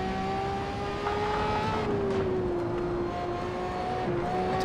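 A damaged race car engine in the Assetto Corsa racing game drones steadily at close range, its pitch sliding slowly down and then holding through the whole stretch, with no talk over it.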